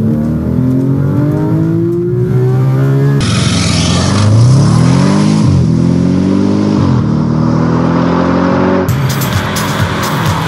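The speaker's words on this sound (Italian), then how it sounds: "Prove di accelerazione. Su strade aperte al traffico." Car accelerating hard on an open public road, loud engine rising in pitch through several gears with sharp shift breaks, close and continuous with no talk.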